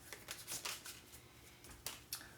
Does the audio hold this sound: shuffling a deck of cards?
yes